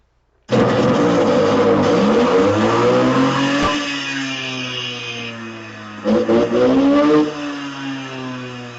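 A loud chainsaw engine roars to life, revving up and down in surges before settling into a steady, throaty idle.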